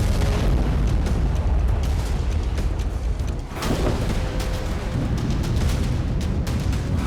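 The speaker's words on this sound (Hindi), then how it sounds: "इजरायल की मिसाइल गिरी और जोरदार धमाका हुआ" An Israeli missile explosion in Jabalia camp, Gaza, comes through as a loud, continuous, roaring broadband rumble that lasts throughout, with one brief dip midway and no speech.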